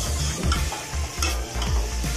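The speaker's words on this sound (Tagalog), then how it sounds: "Haluin lang natin ang bahagya." A spoon scrapes and stirs biryani in a pan in repeated close strokes, with a light sizzle underneath.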